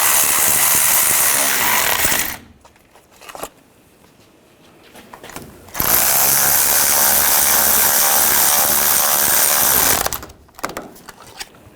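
Power tool running on the front hub bolts of a 2014-2018 GMC Sierra 1500 during a bearing and hub replacement: two loud sustained bursts of several seconds each, separated by a quiet gap.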